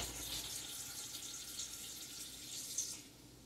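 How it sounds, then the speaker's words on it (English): Tap water runs steadily into a measuring cup in a kitchen, a continuous close hiss and splash lasting a few seconds with no talk, easing slightly at the end. "we're gonna fill it up with water"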